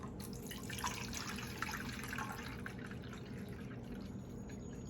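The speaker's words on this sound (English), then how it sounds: "open the reservoir, which is in the back, pour in the cup of water up to 12 ounces." Water pours steadily into the rear reservoir of a Keurig coffee machine, a continuous close splashing trickle lasting several seconds with no talking.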